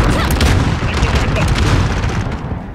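A heavy grenade blast in a Modern Warfare firefight fills the moment with a loud, dense, rumbling boom that stays thick and close throughout, with gunfire crackling in the mix.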